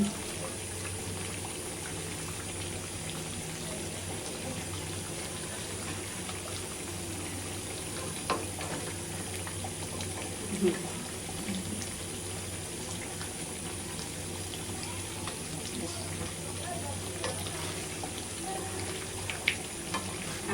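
Beef braised in a pan in a Bangladeshi home kitchen, with potatoes and garlic being added, gives a steady wash of close sizzling and bubbling throughout, with a few small clinks and splashes and no voices.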